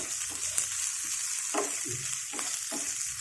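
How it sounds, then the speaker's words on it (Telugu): Red chillies frying in a pan while coconut chutney is being made give off a soft continuous sizzle, with a few distinct stirring scrapes and clinks against the pan, no voices. "మిరపకాయలు వేస్తున్నాను ఇక ఎవరు కారం ఎంత తినగలిగితే అంత వేసుకోండి"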